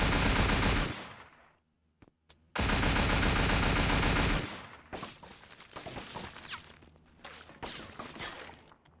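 Loud bursts of gunfire in the crime game Scarface: The World Is Yours, a dense sustained volley cutting off, a brief pause with a sharp shot, then another long burst followed by scattered shots and rattling action.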